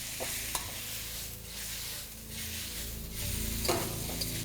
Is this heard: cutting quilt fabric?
no